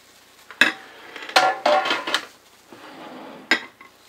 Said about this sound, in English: just pour it into this bowl. The ceramic bowl, the lower bowl